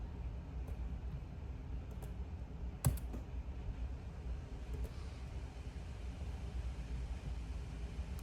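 A computer mouse gives one sharp, distinct click partway through, with a few softer clicks scattered over a faint, steady background hum.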